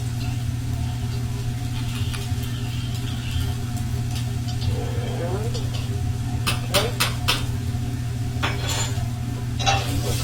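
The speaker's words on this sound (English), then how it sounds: "Go ahead and give our pasta another little stir and make sure it's not sticking together" Pasta is stirred with a spoon in a cooking pot. A few light clinks and scrapes come in short clusters over a steady kitchen hum.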